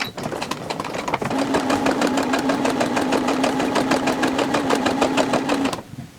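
A sewing machine runs steadily for about five seconds, backstitching and stitching a foundation paper pieced quilt block, with a fast, even needle rhythm and a motor hum that starts abruptly and cuts off at the end, close and loud.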